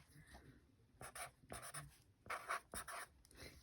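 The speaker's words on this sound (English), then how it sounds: "now we're actually going to write the word rush" Quiet pencil or marker strokes writing a short word by hand, several brief scratchy bursts in an irregular rhythm with short pauses between letters, close and soft.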